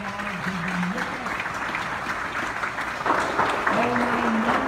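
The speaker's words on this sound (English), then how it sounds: "big round of applause" Steady clapping from a church congregation fills the background while a voice speaks over it, the applause continuing throughout.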